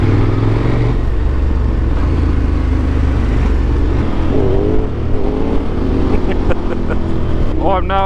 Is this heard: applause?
no